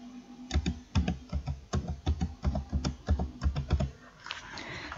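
A promo code is typed on a computer keyboard: a quick, uneven run of crisp keystrokes, close and clear, with no talking.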